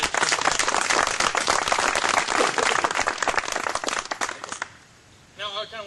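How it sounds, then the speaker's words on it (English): An audience breaks into dense, sustained applause for committee members, loud and steady for several seconds before cutting off into near quiet, with a brief voice at the very end. "if you guys could just raise your hand and then give them a round of applause"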